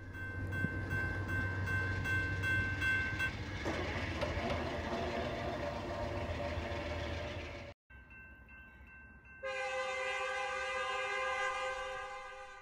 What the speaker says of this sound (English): The train of private vintage passenger cars books it out of town